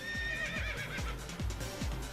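A horse in Fate Grand Order whinnies loudly in a rising, wavering cry, while rhythmic galloping hoofbeats thud underneath at a steady pace throughout.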